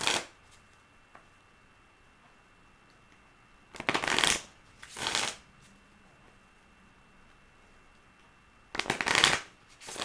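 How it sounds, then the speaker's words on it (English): Tarot cards shuffled by hand come in three short riffling bursts, each about a second long, separated by quiet pauses, close and clear with no talking. "let's pull some of these cards"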